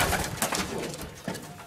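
A racing pigeon coos softly at the loft after returning from a long flight, a few low throaty coos close by in a quiet setting.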